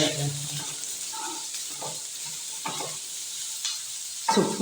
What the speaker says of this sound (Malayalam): ഉള്ളി വഴക്കിയെടുക്കുക ഇങ്ങനെ വഴന്ന്